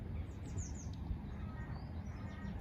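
Birds chirp and tweet in garden trees, several small calls scattered through the passage over a steady low background hum, fairly faint and distant with no talking.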